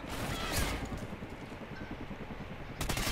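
Gunfire in a PS4 shooter game in a Blitz lobby: a rapid, rattling burst of shots runs steadily for about three seconds at moderate volume, with a sharper blast right at the end and no one talking.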